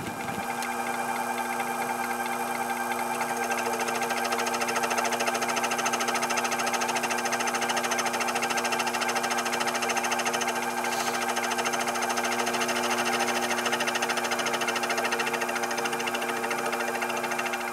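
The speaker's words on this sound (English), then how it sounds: "So right now the cutter is circling entirely around the piece." A fly cutter on a vertical milling machine cuts metal in a steady, droning whir with a constant mechanical hum and faint rhythmic ticking, running unbroken and fairly close.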